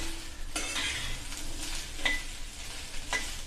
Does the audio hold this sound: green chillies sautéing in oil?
yes